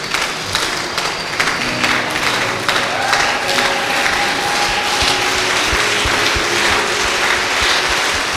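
A church congregation in Dakar applauds and cheers to acclaim, with sustained dense clapping throughout and faint voices and music tones beneath.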